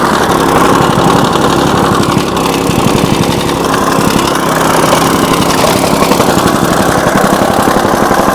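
A soil compactor runs steadily over backfill in an underground trench for an electrical panel upgrade in 100-degree heat: a loud, close, continuous engine drone with fast rhythmic pounding throughout, no talking.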